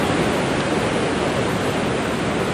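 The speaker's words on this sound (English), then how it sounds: "I hope you can hear me over the sea. It's quite loud." Loud, steady roar of sea waves breaking at Kimmeridge Bay on the Dorset coast, a continuous dense wash of surf filling the whole moment with no pauses and no voices.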